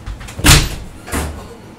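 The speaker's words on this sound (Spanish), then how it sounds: "La puerta." A wooden door in a video game swings with a loud knock-like thud, followed by a second softer clunk a moment later.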